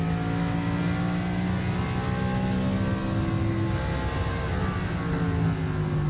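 A Northwest Short Track Tour race car at Richmond gassing it up on the track before a hot lap, a steady loud engine drone with rising harmonic tones, continuous and fairly close.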